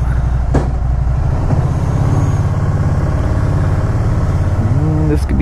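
A Can-Am Spyder RT three-wheeler engine fires up and idles steadily close by, a loud continuous rumble with a brief rising whine near the end.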